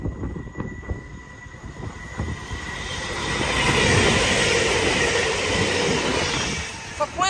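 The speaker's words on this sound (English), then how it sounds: "Next up, a fast train from Glasgow Central to Plymouth." A fast passenger train rushes through Meadowhall station at speed with a rising, sustained roar of rolling wheels and wind, fading slightly at the end.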